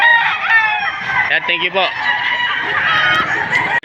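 A White Kelso gamecock rooster crows loudly and close at a poultry market in Padre Garcia, Batangas, against a din of other birds, while someone speaks briefly.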